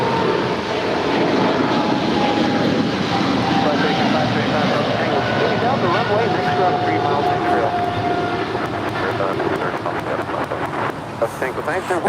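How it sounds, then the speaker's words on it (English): A six-year-old American Airlines Boeing 777-300ER climbs out of LAX bound for London Heathrow, a loud, steady jet roar with wind buffeting, while people talk over it throughout. "That was American 136 Heavy departing to London Heathrow. It's a 6-year-old 777-300ER."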